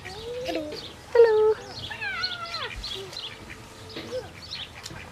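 Ducks quack in a run of nasal, descending calls at a campsite, with a few overlapping bird cries and faint voices around them, fairly close and moderately loud.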